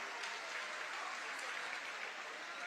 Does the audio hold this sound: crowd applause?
yes